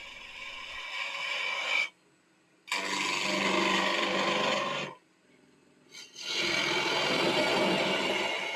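A turning tool cuts wood on a lathe, working toward the headstock. It makes three long, steady, loud rasping scrapes of several seconds each, close by, broken by short near-silent pauses, with no voices.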